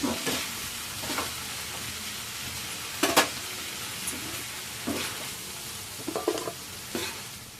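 Onion and tomato fry in a pan with a steady broadband sizzle, while a spatula scrapes and stirs in sharp, irregular strokes close by. No voices.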